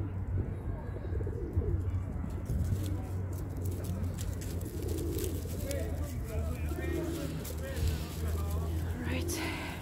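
Pigeons coo softly in a London park in winter, low throaty calls repeating over steady outdoor rumble and soft background chatter.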